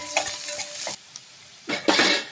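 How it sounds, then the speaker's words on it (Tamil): Onions and dried red chillies frying in a pan with salt for Pallipalayam chicken, stirred in bursts: sizzling scrapes, a brief quiet gap, then another loud stirring burst, with no talking. "போட்டுட்டு நல்லா கிளறி விட்டுருங்க."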